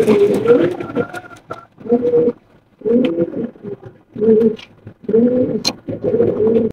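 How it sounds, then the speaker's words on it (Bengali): A pair of big yellow king pigeons coo loudly and close, repeating deep rolling coos in regular bursts separated by short pauses. "এখানে রয়েছে একজোড়া কিং কবুতর মাশাআল্লাহ, হলুদ কালারের কিং, একদম বিগ সাইজের মাশাআল্লাহ"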